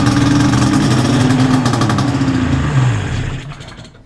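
A 1998 Yamaha SRX 600 power-valve snowmobile engine cranks and sputters, a loud, steady low churning that wavers briefly and then fades away over a few seconds with no talking.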